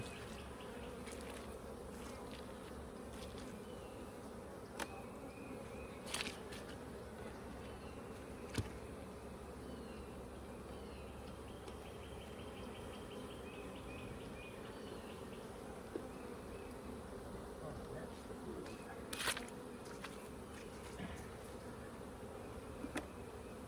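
Honey bees at a backyard beehive during a Demaree hive setup, a steady soft drone of many buzzing insects filling the background, faint and continuous with occasional small knocks.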